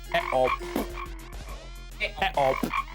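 A frog croaks in a series of loud, close, rasping calls. There are two clusters of pulsed croaks separated by a short pause, and no speech.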